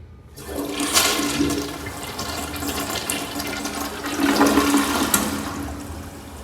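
A 2006 American Standard Cadet toilet in a main lobby flushes with a loud, close rush of swirling water that surges, eases, then swells again before draining.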